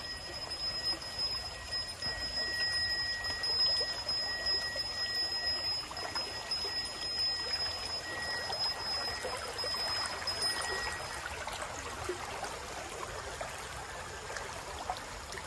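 River water flows steadily during a crossing of a river in Bali near rice fields, a continuous broadband rush with no clear breaks, moderately loud and close.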